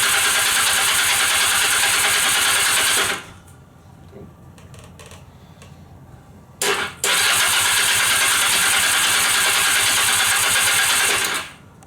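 A Honda CB250 motorcycle that has sat unused is started with the choke on, giving loud, steady engine noise that drops away, then a short burst before it roars continuously again and finally cuts off.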